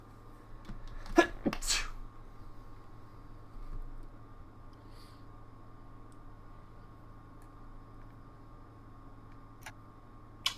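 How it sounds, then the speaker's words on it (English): One person sneezes twice in quick succession, loud and close, over a quiet room hum with faint ticking, then near silence. "Sorry, I was sneezing."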